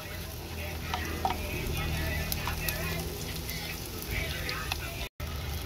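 Garlic and onion sizzle steadily in a frying pan, a close continuous crackle with occasional stirring, while a person talks over it.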